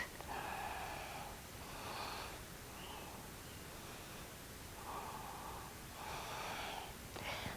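Deep yoga breathing during a gentle yoga session, slow airy inhales and exhales through the nose in several rounds, soft and close with a hissy background.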